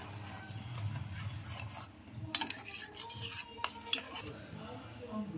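A spoon stirs hot chocolate in a pot as it thickens, with a soft scraping swirl and a couple of sharp clinks against the metal, and a voice speaking quietly in the background.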